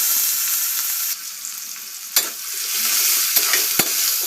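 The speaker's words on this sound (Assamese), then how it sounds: "অকমান গোল্ডেন ব্ৰাউন নোহোৱালৈকে মই ভাজি ল'ম" Onions frying in hot oil with a dried red chilli in a wok, a steady bright sizzle with a few sharp clinks of stirring.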